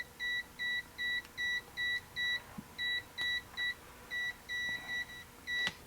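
A Kaiweets clamp meter's buzzer sounds near an AC cord in a long run of about a dozen short, evenly spaced beeps, clear and moderately loud over a quiet hum, with no talk.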